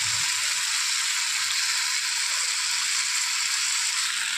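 Chowmein frying in a pan as Schezwan sauce goes in, a steady bright hiss of sizzling oil held at an even level throughout, with no voices over it.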